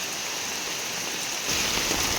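Heavy rain falls in a dense, continuous hiss that swells louder partway through, with no voices over it.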